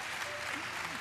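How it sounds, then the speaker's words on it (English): Audience applause and cheering at the Ubisoft E3 2017 press conference in a large hall, a steady dense clatter of clapping with voices mixed in. "Why are we cheering for this?"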